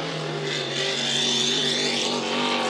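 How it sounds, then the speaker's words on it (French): A Hydro350 hydroplane racing boat engine runs at full throttle during a race, a loud, sustained high-pitched roar with rising pitch, heard up close with no talk. "Et Lecomte qui met plein régime sur Léger."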